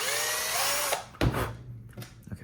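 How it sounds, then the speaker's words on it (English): A power drill whines steadily as it bores screw holes, then stops with a sharp clunk, followed by a few short handling knocks and rattles, close and moderately loud. "Let's drill most of these holes."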